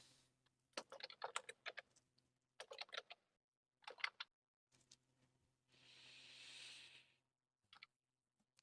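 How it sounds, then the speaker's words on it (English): Quiet keys tapped in quick irregular bursts on a small portable laptop keyboard, with short pauses between flurries and a brief soft hiss partway through. "I hear a keyboard."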